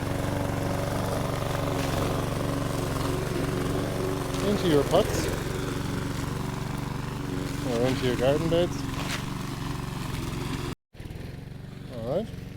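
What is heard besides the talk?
tractor engine running in the garden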